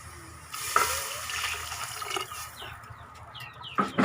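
A steady rushing, bubbling hiss of water boiling in a pot for a frog curry with mustard greens starts after a moment of quiet and continues with a few small clinks near the end.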